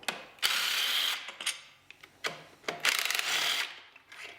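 A ratchet with a 15mm socket turning out water pump bolts on a C5/C6 Corvette pump, giving bursts of rapid clicking pawl ratcheting separated by short pauses, close and clear with no talk.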